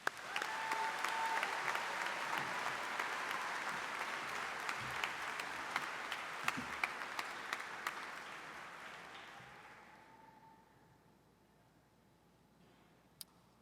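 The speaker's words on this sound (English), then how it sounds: "let's give everyone a big round of applause" An audience at a high school graduation ceremony at Monmouth University claps in sustained, dense applause that stays even for several seconds before gradually fading away, ending with a single faint click.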